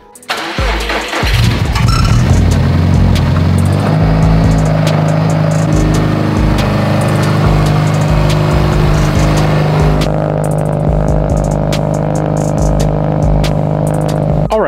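A heavily modified, turbocharged Subaru STI with dual fuel pumps cranks briefly and fires up after an engine-bay rebuild. It settles into a loud, close, steady running rumble, and the idle tone shifts noticeably partway through.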